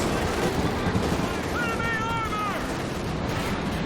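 A busy Company of Heroes 2 battle rumbles on with continuous dense gunfire and tank fire under a commentator's voice, blending into a steady roar of combat with no single shot standing out.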